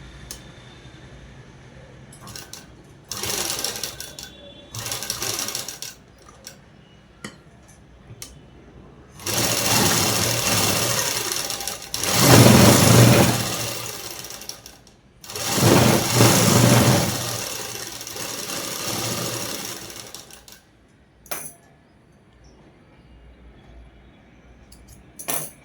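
A sewing machine stitches cloth from a marked dot in bursts, with a loud sustained run in the middle and shorter runs around it, close and mechanical with a whirring motor.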